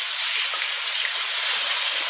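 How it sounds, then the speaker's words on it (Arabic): Chicken breast strips hitting hot sesame oil in a pan, a continuous bright sizzle and hiss, close and steady, with no voices. "جاهزه عندي هنا صدور فراخ متقطعه شرايح او قطع صغيره، هنزل بيها كده تاخد صدمه"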